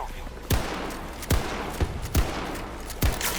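Gunfire in the video game Battlefield 2042, with five or six sharp, loud shots or short bursts spaced irregularly about half a second to a second apart over a constant game background, with faint talk underneath.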